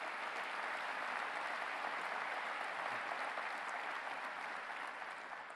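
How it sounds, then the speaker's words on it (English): Sustained audience applause fills a hall during a 2018 Buffalo State of the City address, a dense, steady wash of clapping from a large crowd that holds evenly throughout and eases slightly at the end. "Let's give him a round of applause."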